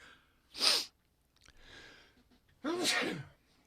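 Two loud, sharp sneezes close by, separated by a quieter breathy pause.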